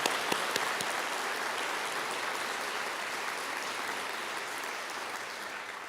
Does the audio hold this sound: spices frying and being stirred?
no